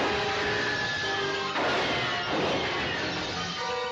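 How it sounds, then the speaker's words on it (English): Glass crashing and shattering in a film shootout set in a hall of mirrors, loud sustained smashing bursts layered over orchestral music, with a heavier crash midway and further impacts near the end. "hearing the crash of glass echoing and nothing else except ricocheting bullets and glass"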